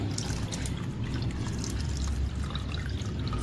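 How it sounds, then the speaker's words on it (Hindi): About 1.5 litres of soaking water drains through a strainer into a large pot while making homemade tofu, a steady close rushing wash with no pauses. "थोड़ा सा वेट करते हैं कि ये पानी सारा स्ट्रेन हो जाए"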